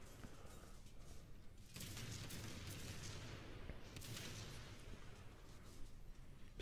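Naval gunfire in the World of Warships video game comes as booming artillery salvos with a rolling, rumbling background of battle noise, fairly loud and continuous.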